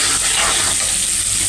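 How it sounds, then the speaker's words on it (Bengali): Onions and chillies sizzle steadily in hot oil in a home kitchen, with a loud, close, continuous frying hiss and no talk. "ভেন্ডি আলু ভাজা করব, তারই জন্য পেঁয়াজ মরিচ ভাজতে দিচ্ছি আমি।"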